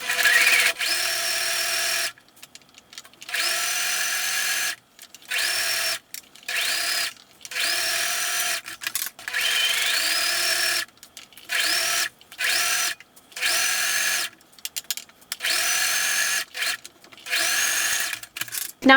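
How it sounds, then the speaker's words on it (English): Sewing machine stitching the long sides of a fabric tote bag, whirring in repeated bursts of a couple of seconds each, separated by short pauses, close and clear with no talking. "we want to stitch the long sides now together"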